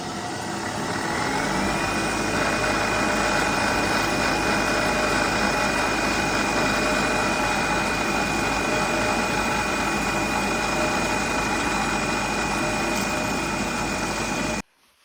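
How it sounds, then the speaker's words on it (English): A power drill whirs steadily and loudly up close for about fourteen seconds with a constant high whine while drilling for a keyless tuner setup, then stops abruptly. "I'm just going to drill this one, and then we'll do one more."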